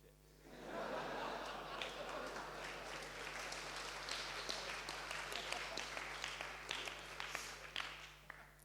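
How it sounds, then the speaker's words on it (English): An audience at a Cambridge Union debate breaks into sustained clapping mixed with laughter and chatter, a dense, steady round of applause that runs throughout. "You got a room of people to laugh and clap."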